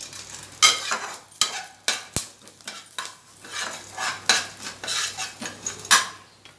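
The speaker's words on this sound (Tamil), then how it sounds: "போட்டு நல்லா வதக்கிட்டே வரணும்." Herbs tossed and stirred in a hot pan for a herbal kashayam, with repeated metal scrapes and clinks of a spoon against the pan over a faint sizzle, steady and close, with no talk.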